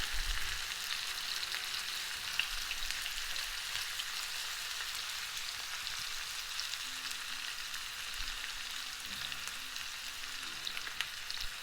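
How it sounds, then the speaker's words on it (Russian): Onion fries in oil in a pan with a steady, fine, crackling sizzle, close and continuous, with occasional soft stirring noises and no voices. "Лук немножко обжарим без моркови, чтобы он отдал маслу свой"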